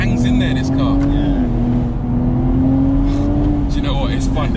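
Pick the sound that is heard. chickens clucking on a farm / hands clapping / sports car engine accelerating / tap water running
sports car engine accelerating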